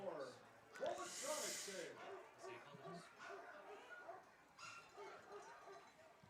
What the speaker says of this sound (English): the police canine dog, or whatever you call it, police canine, I guess you don't have to say dog, is adding his bark to the cacophony here